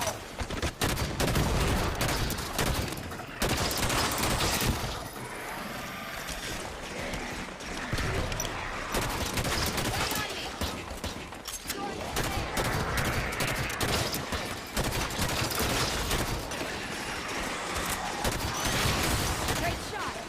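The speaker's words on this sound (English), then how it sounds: "Contact. Hostile fire." Hostile gunfire in a Halo firefight against Prometheans: dense, sustained bursts of automatic weapons and rapid shots, loud and close, rolling almost without pause, with some voices mixed in.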